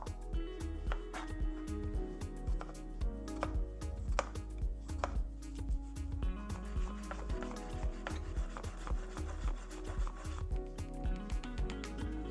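A kitchen knife chops garlic on a cutting board in a run of sharp, fairly close knocks, some evenly paced and some quicker, with no one talking.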